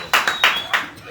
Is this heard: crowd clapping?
yes